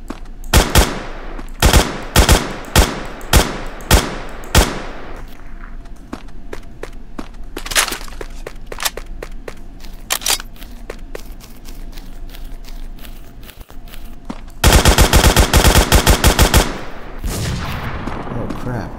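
CrossWar MP Mobile gameplay brings loud gunfire: spaced single shots, a run of scattered cracks and footsteps, then a rapid automatic burst near the end.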